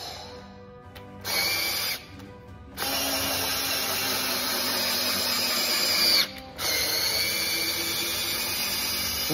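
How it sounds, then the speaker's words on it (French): A power drill drives double-thread screws into wooden deck boards in short bursts, its high whirring motor starting and stopping several times with brief pauses between screwing and unscrewing. "On visse, on dévisse, on plaque la lame et on revisse."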